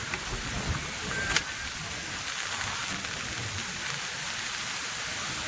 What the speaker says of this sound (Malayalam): നല്ല അടിപൊളി മഴ കൊണ്ട് സൂപ്പർ കാറ്റും